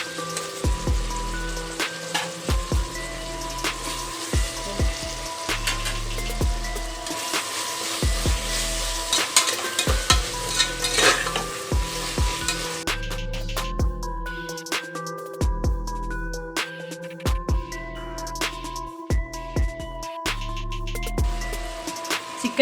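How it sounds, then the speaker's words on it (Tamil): Ground masala paste for a chicken kulambu fries and is stirred in a pot, a dense, rain-like crackling patter with scattered sharp ticks, heard under steady background music. "சிக்கன் வேகிறதுக்காக நம்ம அரைச்சி வச்சிருந்த மசாலாவை இப்போ போட்டிருக்கோம்"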